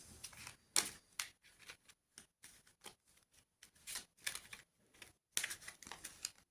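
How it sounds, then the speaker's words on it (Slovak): Playing cards are shuffled by hand before a game of žolík (rummy), giving quiet, close, irregular riffling and snapping bursts with brief gaps and no talking. "Takže zoberieme si karty a zamiešame"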